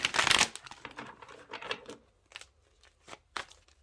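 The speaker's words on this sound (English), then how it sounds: "of course, you know I'll shuffle on camera with you too" A tarot card deck being shuffled by hand, a loud riffle burst at the start followed by softer scattered flicks and rustles, close and with no talking.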